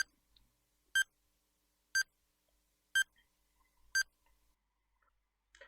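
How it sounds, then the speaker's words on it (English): Four identical electronic beeps from a countdown timer sound exactly one second apart, sharp and clear against near silence, followed by a faint fifth blip at the end. "And let's start the timer."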